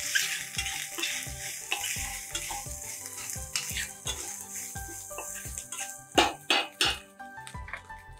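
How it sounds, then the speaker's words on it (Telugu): Ginger garlic paste sizzles in a pan with vegetables, a steady close frying hiss punctuated by regular clinks and scrapes of a spoon against the pan, with a few louder stirring knocks near the end. "ఇప్పుడు దీంట్లోనే కొంచెం అల్లం వెల్లిపాయ పేస్ట్ వేసుకున్నాము."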